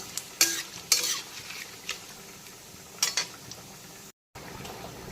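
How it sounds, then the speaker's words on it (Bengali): Whole cumin seeds, dry red chillies and bay leaf sizzle as they hit hot oil in a pan, with bursts of crackling and spoon stirring recurring every second or so, close and moderately loud. "এখন দিয়ে দিচ্ছি গোটা জিরে, শুকনো লঙ্কা, তেজপাতা ফোড়ন।"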